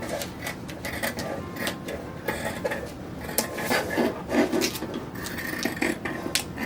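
Scissors cutting through yellow cotton fabric for a 1910s-style toddler romper, a run of soft crisp snips and rustling cloth close by, steady and continuous with brief louder crunches as the blades close.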